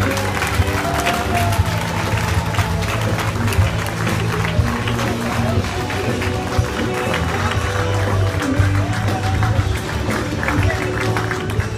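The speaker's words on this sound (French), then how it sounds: "Je vous demande de faire une ovation au nouveau maillot jaune de la ronde de l'Isard" Crowd gathered at the podium of the Ronde de l'Isard cycling race applauding and cheering the new yellow jersey winner, steady clapping throughout under music and a voice.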